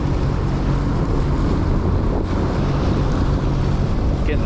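A jet ski powering hard across open water, its engine a steady loud roar blended with rushing wind buffeting the microphone and splashing spray throughout.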